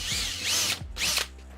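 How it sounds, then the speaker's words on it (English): Power drill driving screws into a custom-sized door: two loud whining bursts of the motor spinning up and down, close by, with a short pause between them. "I'm going to grab my drill and some screws"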